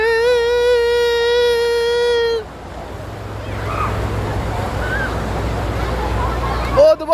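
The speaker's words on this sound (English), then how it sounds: "These waves are popping." Waves surging in a tidal wave pool at a water park, a steady broad wash of churning water rising after a loud opening tone, with crowd noise and talk around it.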